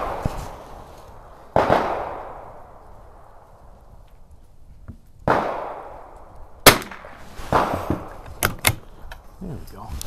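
Sharp, loud gunshots from a 1935-37 Mossberg No.42 .22 LR bolt-action rifle at a shooting range, spaced single cracks with short echoing tails and a quicker cluster of shots near the end.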